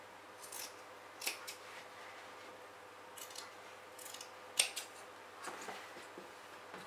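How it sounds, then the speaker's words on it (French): Scissors cut the bottom corners of fabric pieces for a handbag, giving a few quiet, scattered snips and crisp blade closures close by in a hushed room. "je découpe mes angles du bas de mes tissus"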